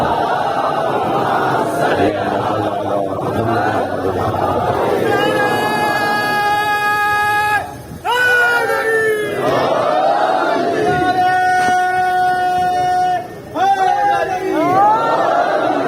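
A large congregation at a Shia majlis in Tando Allahyar, Sindh, loudly chants religious slogans in unison, with sustained shouted calls and a lead voice, forceful and close, with brief pauses between bursts.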